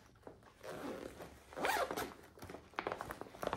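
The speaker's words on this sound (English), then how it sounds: "They both have your inside pockets and your zipper" The zipper on a purse is pulled in a few quick, close rasping strokes, quiet and brief with no talking.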